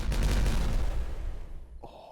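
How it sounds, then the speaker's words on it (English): An explosion in the beaver colony-building game Timberborn booms loudly at once, a heavy low rumbling blast that decays over about a second and a half before a brighter game sound cuts in. "let's have an explosion."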